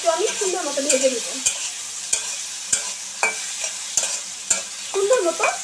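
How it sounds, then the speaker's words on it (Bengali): Small cubed potatoes frying in a pan, a steady sizzle broken by regular scraping strokes of a spatula, close and fairly loud with no talk. "এবার এই আলুটাকে আমি সুন্দর মতো ভেজে নিব"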